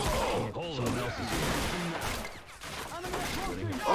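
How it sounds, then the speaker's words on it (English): Video game gunfire crackles in dense, constant bursts beneath excited game audio and voices, staying loud and busy throughout. "Oh, this bullet is flying everywhere."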